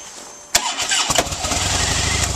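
A Harley-Davidson Wide Glide motorcycle engine cranks and catches after a sharp click, then settles into a steady, close idle rumble.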